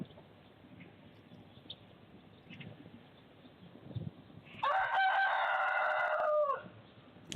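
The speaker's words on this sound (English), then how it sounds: "Now you guys get chickens and roosters." A rooster crows loudly and close by on an early morning in Ukraine, one long drawn-out call standing clearly above a quiet background.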